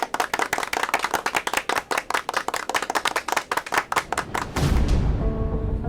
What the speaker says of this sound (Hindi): नए बच्चे लोग ताली बजा कर तो बता दो